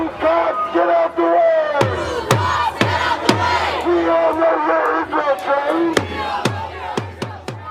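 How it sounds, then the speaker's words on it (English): A large protest crowd chants and shouts together in the evening, while loud, sharp drumbeats strike repeatedly over the steady roar of voices. "the crowd was chanting and beating drums throughout the evening"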